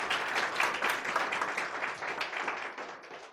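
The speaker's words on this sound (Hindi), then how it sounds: "ताली बजाओ ना भैया, समझ में आया हो तो।" Applause from a church congregation during a Hindi sermon, many hands clapping in a dense, steady patter that fades slightly toward the end, with no talk over it.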